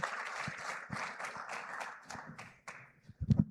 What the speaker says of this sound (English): I think we should have another round of applause for all the investors.